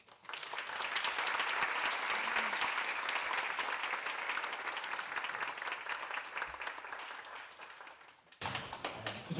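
At an academic symposium, the audience gives steady, enthusiastic applause to the presenters and discussants for about eight seconds before it cuts off sharply.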